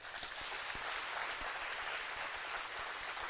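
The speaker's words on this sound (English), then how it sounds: "Let's give a round of applause" A crowd applauds at a steel band spring concert in an arena, a soft steady wash of many hands clapping heard from a distance, faint and continuous with a few sharper claps standing out.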